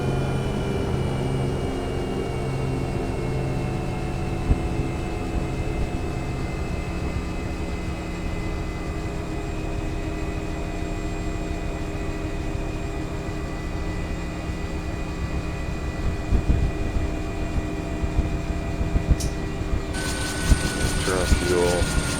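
Nimbus Huey UH-1 helicopter in the X-Plane 11 simulator throttled down to idle, a steady engine whine and turbine drone with tonal hums, close and continuous, with faint clicks near the end.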